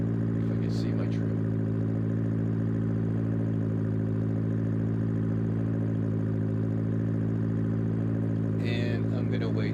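A Cessna light aircraft engine throttled back to about 2,000 RPM, a steady droning hum heard from inside the cockpit that holds evenly throughout, with a brief rattle near the end.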